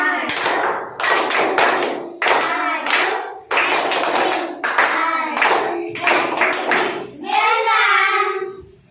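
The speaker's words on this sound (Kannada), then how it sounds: "ವೆಲ್ಕಮ್ ಚಪ್ಪಾಳೆ ಅಂದರೆ ಸ್ವಾಗತ ಚಪ್ಪಾಳೆ ಹೇಳ್ಕೊಟ್ಟಲ್ಲ, ಅದನ್ನು ಮಾಡಿ ನೋಡೋಣ." Schoolchildren in a classroom perform a rhythmic welcome clap: loud, close bursts of many hands clapping in a repeated pattern, with young voices calling out along with the beat.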